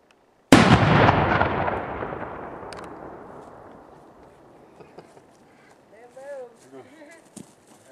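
A single big firework shell bursts with a loud boom at a 4th of July backyard show, followed by a long crackling, fading tail, with people talking faintly near the end.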